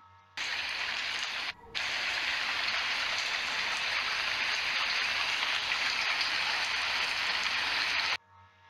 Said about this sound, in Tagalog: Ang patak ng ulan ay halimbawa rin ng may ritmo.